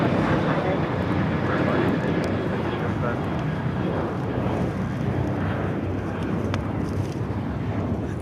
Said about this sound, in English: We got all the A380s taking off here on the south side as well.